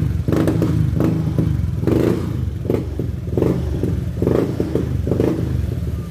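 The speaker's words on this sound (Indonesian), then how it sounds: "ini motornya sudah hidup, cuman dia agak ngeberbet sama ngempos." A Honda Beat ESP scooter engine idles roughly close by, sputtering and misfiring with uneven pulses and occasional rattles instead of a smooth steady run.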